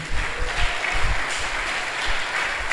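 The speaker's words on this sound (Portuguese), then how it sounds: "Pode aplaudir Jesus." A church congregation at an evening worship service claps together, a moderate wash of applause with some low rumble underneath, continuous throughout.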